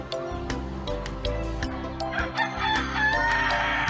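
An Indonesian village rooster (ayam kampung) crows loudly and close, a long drawn-out call over scattered clucks and farmyard noise, with no talking.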